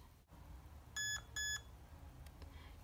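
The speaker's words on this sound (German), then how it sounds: "musst du die Easy Set-Taste gedrückt halten, bis das Auto zweimal piepst." Two short, clear electronic beeps from a Traxxas RC car sound in quick succession against a quiet background, followed by a couple of faint clicks.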